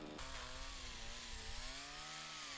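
An electric chainsaw cuts plane tree branches during street tree pruning from an elevated ladder truck, with a steady, continuous high-pitched motor whine that shifts slightly in pitch under load, close and loud throughout.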